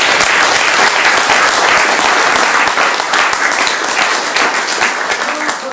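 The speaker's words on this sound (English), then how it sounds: "Give Lorna a round of applause" A round of applause for Lorna Meadley at a committee gathering, loud dense clapping from many people close by, continuous for nearly six seconds and easing only slightly toward the end.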